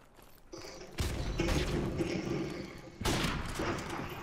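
Gunfire in Modern Warfare Remastered during a free-for-all sniper match: loud, close shots and booming blasts in quick succession, with a sustained rumbling wash between them.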